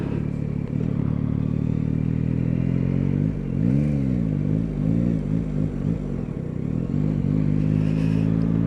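A Yamaha Tracer 9 motorcycle accelerates hard past a wagon on the road. The engine note climbs and shifts over a steady wind roar, loud and close throughout.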